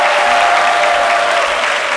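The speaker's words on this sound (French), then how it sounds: "Ça s'applaudit quand même." A TV studio audience gives a singer dense, even applause, loud and close, the clapping sustained over two seconds with no pause.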